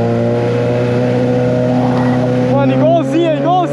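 Suzuki GSX 750 motorcycle with a straight-pipe exhaust riding in traffic, a steady loud engine drone with rising and falling rev sweeps near the end, under road and wind noise.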